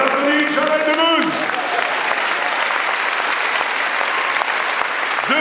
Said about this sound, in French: On applaudit Jamel Debbouze.